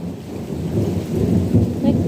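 Heavy rain pours in a steady wash while low thunder rumbles continuously underneath, loud and close.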